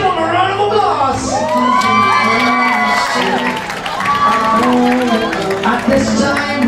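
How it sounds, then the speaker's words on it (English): Pageant audience at a beauty grand final cheering, whooping and shouting with applause underneath, a loud continuous crowd roar with excited high voices throughout. "let's give them a round of applause"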